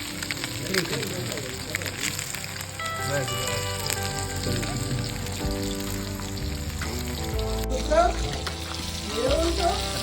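Masala-coated chicken fries in oil in a pan, a steady close sizzle and crackle with occasional scraping as pieces are turned over, while people talk throughout.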